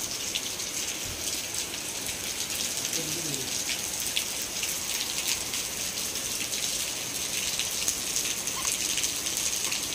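Steady rain falls outdoors in a continuous, dense hiss of drops hitting surfaces. Faint voices and a few brief bird-like calls come through beneath the downpour.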